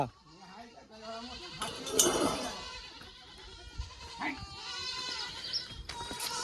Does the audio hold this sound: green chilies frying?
no